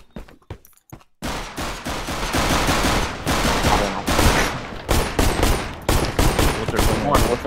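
AK rifle fire in a Counter-Strike match on Inferno: a few scattered shots first, then long loud rattling bursts of automatic fire with brief gaps, close and dominant throughout.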